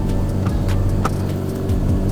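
A tuned, K-swapped Honda EG Civic with injectors, making about 176 rear-wheel kilowatts, drones close and loud on a mountain touge road, its engine note steady with slight shifts in pitch.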